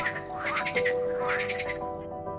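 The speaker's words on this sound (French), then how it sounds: "j'adore entendre les grenouilles" Frogs croak near a pond in a French town, a dense chorus of repeated pulsing calls with a steady tonal hum underneath, fairly close and continuous throughout.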